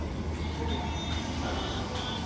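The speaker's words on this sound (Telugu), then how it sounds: "నాకు తెలిసి ట్రైన్ వస్తుందేమో." A low, steady rumble of a small theme park train running nearby at a dinosaur park, a continuous rolling drone with faint metallic hiss above it.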